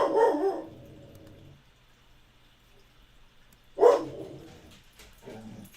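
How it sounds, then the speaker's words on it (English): A dog barks twice, a few seconds apart, each a short burst of sharp yips at moderate volume with quiet in between. "sorry about my dog's barking"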